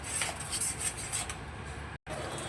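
A utensil scrapes and rubs against a pan while fried hilsa fish is stirred in its frying oil with mustard, soft repeated scraping strokes over a faint sizzle, cut by a brief silent gap near the end.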